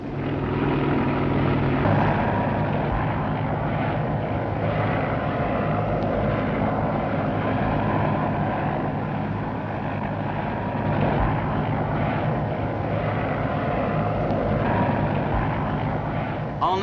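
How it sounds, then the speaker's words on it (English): A taxi helicopter at Battersea heliport by the River Thames in London, 1964, makes a steady, loud rotor and engine drone that holds for the whole stretch at close range. "you can arrange for a taxi helicopter to be waiting for you at the Battersea heliport"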